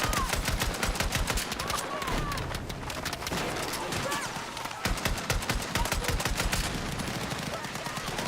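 Sustained rapid gunfire from automatic weapons in a first-person shooter game during a weapons tier-list session, bursts repeating throughout with occasional speech in the background.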